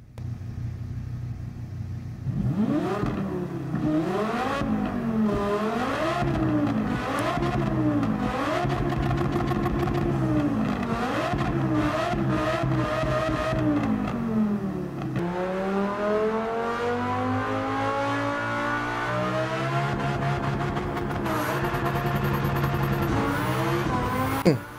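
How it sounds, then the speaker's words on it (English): An upgraded Lamborghini Gallardo engine in Gran Turismo 7 revs loudly and continuously, climbing and dropping in pitch through repeated gear changes, then settling into a long, steady, rising drone with no talking. "let's just take a listen to what it now sounds like"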